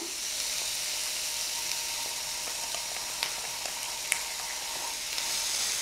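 Tomato sauce goes into a ginger-garlic mixture already sautéing in a pan for a lunch-box dish, and a steady low sizzle fills the scene with a few faint clicks of stirring; no one speaks.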